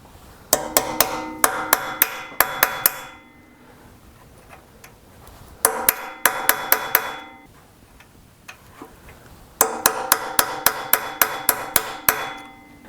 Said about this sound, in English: it won't hurt that I've been tapping it a lot, because it might even shock the bolt that's broken